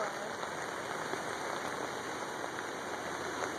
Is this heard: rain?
yes